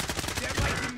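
Rapid video game gunfire rattles out in a quick burst of close, loud repeated shots lasting about a second, with no talk.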